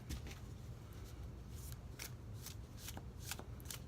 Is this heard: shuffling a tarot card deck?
yes